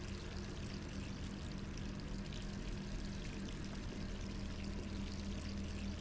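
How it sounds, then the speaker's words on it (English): Tap water pours without a break inside a room in Resident Evil 3, a low, constant hiss and gush that holds at one level for several seconds. "Why is the water on?"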